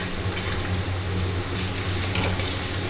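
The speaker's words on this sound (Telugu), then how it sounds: "కరివేపాకు వేసుకొని వేయించుకొని దానిలోనే కాకరకాయ వేసుకోవాలి" Bitter gourd and curry leaves fry in a pan with a loud, steady, close sizzle that crackles continuously throughout.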